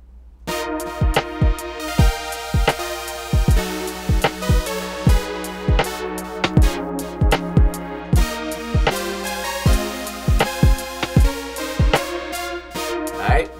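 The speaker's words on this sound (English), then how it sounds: "I made a little drum pattern using those drums" A simple, steady programmed drum beat repeats with punchy kicks and crisp hits in a regular rhythm, clean and alone with no voices.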